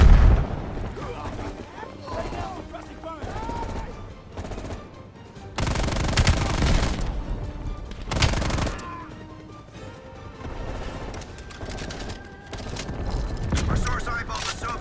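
Fully automatic M16 A1 rifle bursts from Black Ops Cold War, loud cracking volleys coming in several separate bursts with pauses between, mixed with game ambience and booms, with a voice speaking over parts of it.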